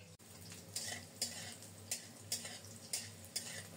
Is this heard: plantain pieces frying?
yes